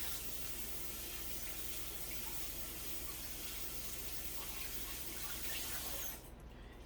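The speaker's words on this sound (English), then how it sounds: "So I'm gonna let the water run, put it in the towel" Warm water runs steadily from a bathroom tap into a sink, a soft continuous splashing hiss that cuts off near the end.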